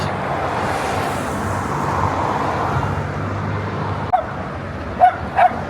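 A dog gives a few short barks near the end, sharp and fairly close, over a steady low background rumble.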